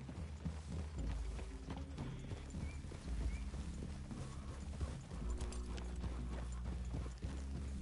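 Several horses walk along a trail. Their hooves clip-clop steadily over the whole stretch, with creaking saddle leather and an occasional whinny. The sound is faint and there is no talk.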